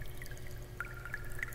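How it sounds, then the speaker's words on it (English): Soft drips of water fall at uneven intervals over a quiet background trickle, faint and gently echoing. "You can hear the gentle sound of water, distant at first,"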